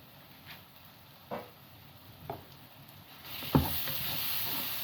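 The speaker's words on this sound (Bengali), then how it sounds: "পরিমাণ মতো লবণ দিয়ে ঢেকে রাখবো পেঁয়াজ সিদ্ধ হওয়ার জন্য।" Salted onions cooking covered in a pan for chicken rogan roast give a quiet, steady sizzle, with a few soft scraping or lid knocks and a brighter hiss building near the end.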